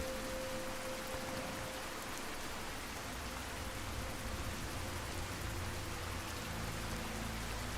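Steady rain falling in the game world of Fallout 3 and New Vegas, a continuous broadband hiss with soft patter, even and unbroken throughout, with a faint low hum beneath and no voices.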